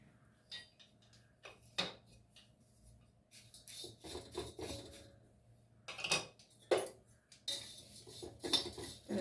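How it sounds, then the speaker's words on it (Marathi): Flattened rice (poha) being dry-roasted in a pan for thalipeeth bhajani, heard as a series of dry metallic scrapes and rustling stirs at close range, coming in irregular bursts with quiet gaps between them. "आता आपण पोहे भाजून घेत आहोत"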